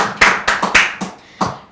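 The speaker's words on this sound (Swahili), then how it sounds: "Makofi." Several sharp hand claps at a Kikuyu-language comedy show, a handful of separate bursts in an uneven rhythm, close and fairly loud with no talking.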